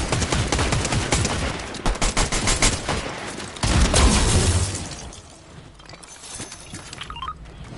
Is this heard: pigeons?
no